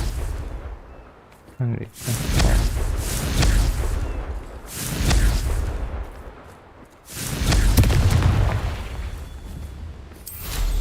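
Repeated fiery spell blasts from the Confringo curse in Hogwarts Legacy, several loud booming bursts in a steady rhythm, with a voice shouting over them.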